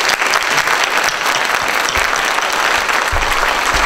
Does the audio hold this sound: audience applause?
yes